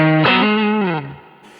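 An electric guitar runs through a Kemper Drive set to a TS-808 overdrive, giving a thick, slightly gritty sustained note that bends and slides down before fading, close and with no talk.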